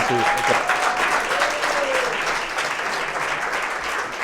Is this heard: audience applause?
yes